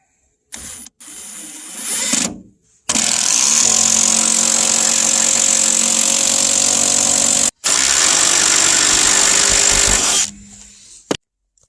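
An impact driver sinking timber structural screws during a straw bale barn build, with a short burst, then two long, loud sustained runs of whirring and hammering broken by a brief stop, up close.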